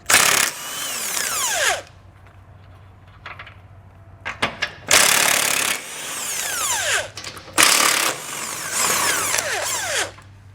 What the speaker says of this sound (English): We'll now just get the rest of them off of here.